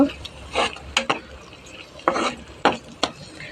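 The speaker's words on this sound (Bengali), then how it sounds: "আমি এগুলো নেড়ে অনেকক্ষণ কষিয়ে নিব" A spoon scrapes and clatters in a pan as spices for biryani are stirred and fried, coming in short irregular strokes with a soft sizzle underneath, close and fairly quiet.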